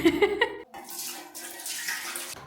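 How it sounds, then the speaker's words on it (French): Water pours and splashes steadily into a basin for filling, a close continuous rushing that follows a brief muffled bump at the start and carries on alone without any talk. "Donc on doit remplir une bassine."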